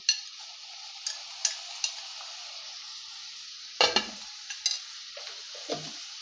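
Tomato pieces and ginger-garlic paste frying in a pan for aloo rice, a steady sizzle broken by scattered stirring scrapes and clinks, with a couple of louder spoon knocks near the end.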